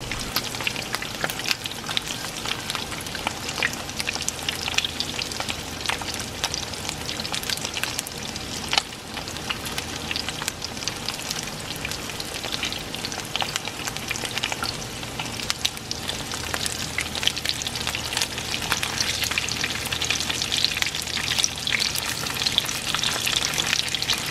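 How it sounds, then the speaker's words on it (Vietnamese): Hot dogs fry in a pan with a steady, dense crackling sizzle that runs unbroken throughout, with no voices over it. "bây giờ mình sẽ chiên hot dog ăn nha các bạn"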